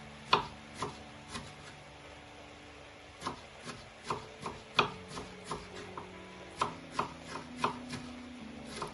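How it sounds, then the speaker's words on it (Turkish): A knife chops tomatoes into cubes steadily on a wooden board, a dozen or so crisp, evenly paced thuds up close, with no voices. "Domateslerimizi de yemekte küp küp doğrayalım."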